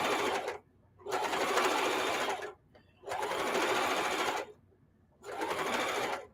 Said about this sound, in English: what I'm doing, Mona, is sewing some old denim together